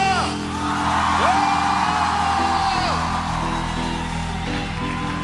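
A church congregation shouts and whoops together in a loud, sustained roar of many voices, with rising and falling cries over a droning background.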